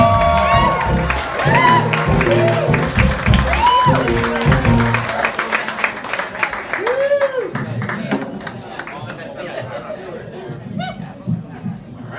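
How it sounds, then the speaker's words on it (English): Comedy club audience welcoming a stand-up comedian in a bar with clapping, whoops and cheering, loud and close at first, while music plays and then fades out, leaving the applause and chatter to thin out. "Give him a nice round of applause."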